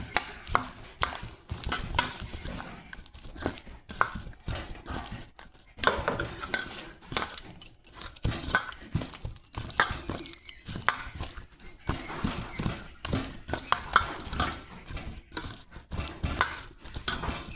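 Fritter batter with dried Kashmiri chilli is mixed by hand in a bowl, giving soft, irregular squelching and stirring sounds with occasional light clinks of a vessel, fairly quiet and continuous with no talking.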